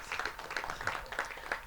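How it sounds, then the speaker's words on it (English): Applause for the IIFA team at a press conference, with a crowd clapping steadily and evenly throughout, dense and moderately loud across the room. "a big round of applause for all the team from IIFA here"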